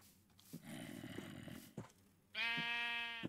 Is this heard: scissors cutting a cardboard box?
no